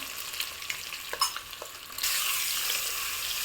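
Boiled eggs frying in a pan for egg dum biryani give a few soft clicks and taps before a sudden burst of loud, steady sizzling takes over, close and without any talking.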